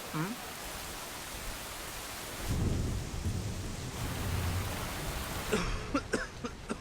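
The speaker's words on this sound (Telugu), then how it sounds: "అలా వానలో తడవద్దు, ఇలా రండి" Steady hissing rain pours throughout, swelling into a heavier rush midway and near the end, with low rumbling underneath.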